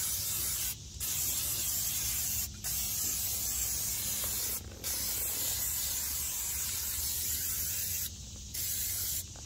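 Bursts of aerosol undercoating spray on the outside of an FJ hiss steadily, broken by four short pauses where the nozzle is released, close and fairly loud against low background rumble.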